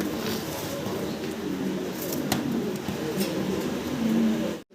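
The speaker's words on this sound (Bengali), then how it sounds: "বিশাল সাইজের ভিতরে আছে এক জোড়া মুন্ডিয়ান একদম জেড ব্ল্যাক কালো কুচকুচে" Pair of jet black Mundian pigeons cooing softly and continuously at moderate distance, with low murmuring coos over a steady background hum.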